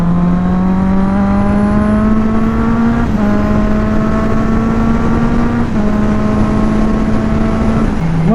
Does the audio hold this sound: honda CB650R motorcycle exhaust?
yes